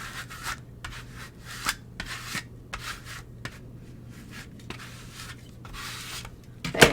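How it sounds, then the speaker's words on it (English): A craft scraper is pushed repeatedly over glued Cricut material on a cutting mat, producing a series of short, close, dry scraping strokes. "So you're just going to use your scraper and flatten it out."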